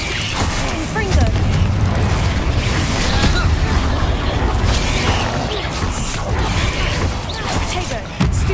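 Confringo blasting spell explosions during a troll fight in Hogwarts Legacy: booming, crashing bursts over a dense, loud wash of combat noise, with shouted spell incantations throughout.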